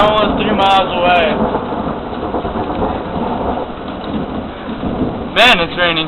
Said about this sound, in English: Man, it's raining hard again.